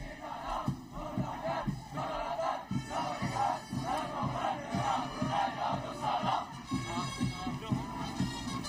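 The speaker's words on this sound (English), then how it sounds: "as you can hear there very clearly, PKBN team chanting their theme cheer, Sedia Berbakti, or Ready to Serve" Youth corps team at a national day assembly in Brunei chanting their theme cheer in unison, rhythmic group shouts in repeated bursts, moderately distant and crowd-like.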